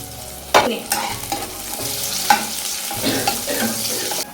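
Garlic, onion and chili fry in a hot pan, a continuous close sizzle broken by sharp spoon-on-metal scrapes and knocks as the pieces are stirred.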